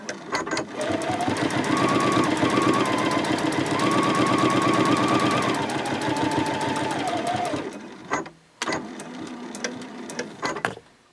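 Sewing machine stitching a small Christmas stocking with back stitches at both ends, a steady loud motor run for about eight seconds, then short bursts of stitching after a brief pause.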